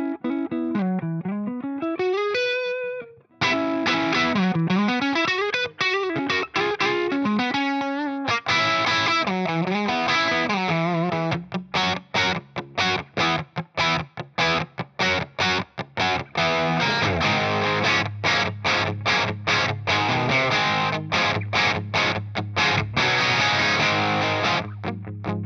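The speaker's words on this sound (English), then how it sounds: "with the drive control up on soak, it's pretty cool. It's a really nice, gritty edge of breakup thing." Electric guitar through a Carvin V3 amp with the drive set to soak, giving a gritty edge-of-breakup tone. It plays bending lead phrases and then a run of choppy, rhythmic staccato chords, loud and up close with no voice.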